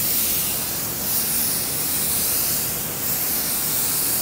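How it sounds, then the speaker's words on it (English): A 3M Performance spray gun lays down a coverage coat of paint with a loud, close, continuous hiss that swells and eases slightly as the passes move. "I'm gonna start here with my coverage"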